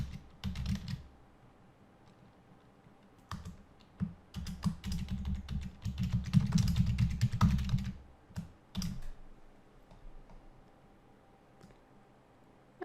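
Fingers type on a computer keyboard in close, quick bursts of soft clicking separated by short pauses, with a longer run of steady keystrokes in the middle.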